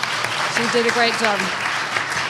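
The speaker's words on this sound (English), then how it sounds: "I think that is actually worth a round of applause." Audience applause at the Hudson Highlands Land Trust 2018 community forum, a steady wash of clapping from a crowd that runs through the whole moment, with someone speaking over it.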